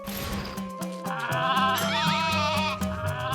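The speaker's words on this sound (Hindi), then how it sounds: "यहाँ कितनी सारी भेड़ है।" Cartoon sheep bleat in a few wavering, nasal calls over a busy background score, one after another, fairly loud and close, with no speech.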